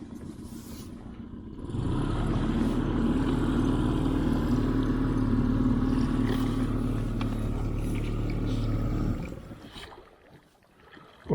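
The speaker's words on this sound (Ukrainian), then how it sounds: "Треба заводити мотор" A boat's outboard motor on the Desna River in November starts up and runs at a steady, loud drone for several seconds, then cuts out abruptly, leaving quiet background.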